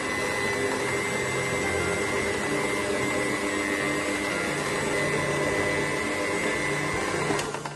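Electric mixer beating banana cake batter, a steady continuous motor whir with a high tonal whine, loud and unbroken throughout, no talking.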